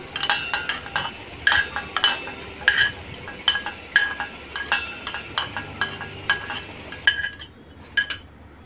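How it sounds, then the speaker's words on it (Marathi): Light metallic clinks and taps of a spoon against a vessel, repeated irregularly as cooked vegetables are scooped and moved, over quiet background. "आता मी एका भांड्यामध्ये काढून घेऊया"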